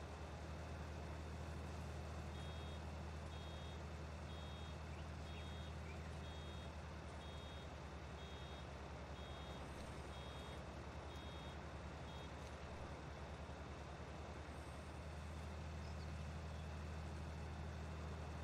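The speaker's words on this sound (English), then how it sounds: "Every time it's beeping at me and I just carry on driving." Reversing beeps from a farm vehicle in Farming Simulator 19 repeat at a steady, even rhythm over a constant low engine drone and rumble, moderately loud throughout.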